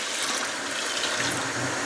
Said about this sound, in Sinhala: මම ඊළඟට මේකට එකතු කරනවා දැන් වතුර. මම මේ එකතු කරන්නේ කුකුල් මස් තඹගත්තු වතුර